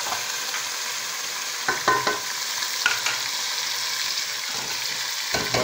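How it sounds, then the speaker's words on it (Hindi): Chicken, dark-browned onions, yogurt and spices sizzle in a pot while being stirred, with steady frying hiss and several scraping, clattering stir strokes up close. "आधा दही भी डाल दिया है, स्पाइसेस भी डाल दिए हैं और साथ ही चिकन डाल दिया और उसको हिलाना शुरू कर दिया।"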